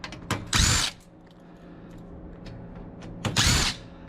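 Power drill backing screws out of a big Dell server tower being scrapped, two loud bursts of whirring about three seconds apart with a few short clicks and quiet handling noise between them.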